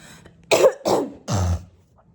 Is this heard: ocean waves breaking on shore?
no